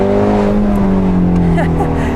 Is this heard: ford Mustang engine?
yes